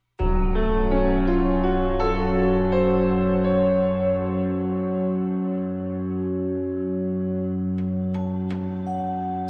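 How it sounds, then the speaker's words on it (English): Slow, eerie music of sustained, echoing tones and layered drones holds steady, with a few sharp plucked notes emerging near the end. "Did you find that music kind of creepy or scary?"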